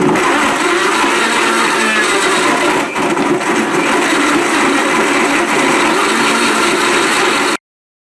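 Blender running on high, whirring bananas into a smoothie: a loud, continuous motor roar with a slight dip near the three-second mark, cutting off abruptly just before the end.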